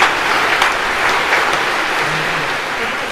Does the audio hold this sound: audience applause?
yes